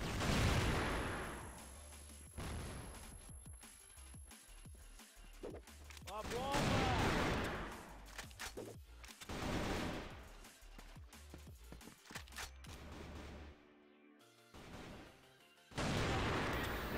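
Gunfire exchange in the online shooter CrossFire, bursts of shots and bangs in uneven clusters with short pauses, mixed with game effects and occasional speech, ending in a sudden loud burst.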